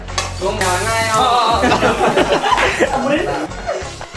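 Turmeric and cumin fry in a pan with a soft sizzle running beneath close, lively conversation and bursts of laughter that mostly cover it.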